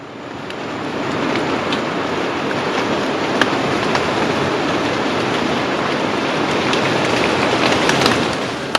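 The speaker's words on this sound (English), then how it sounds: "I heard the first sound of raindrops hitting the ground" Steady heavy rain in a Suriname rainforest, starting as raindrops striking the ground and building to a dense, continuous hiss with scattered sharper drips, fairly close and with no voices.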